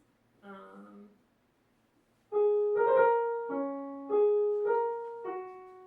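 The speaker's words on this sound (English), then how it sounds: "So our part should sound like this." A short sung alto phrase, then a singer holds a note and adds a quick ornament that steps a whole step up and returns, repeated in a few sustained tones.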